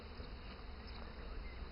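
Honeybees at a beehive with a built-in honey super, a faint but continuous close buzzing hum of many insects, steady with small fluctuations.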